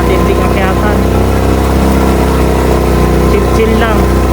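Honda XRM motorcycle engine labouring up a steep trail on the way to Baguio City via Itogon, a loud, constant droning hum with wind buffeting, while a voice talks over it.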